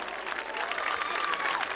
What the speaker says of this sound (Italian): intanto voglio fare un applauso grandioso, lo facciamo a tutti